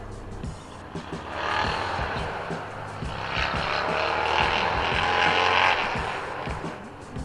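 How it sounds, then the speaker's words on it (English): Motorcycle engines roar past in a sustained, loud rumble, swelling and fading as they go by, with no talking. "wait for the motorcycles to get by here"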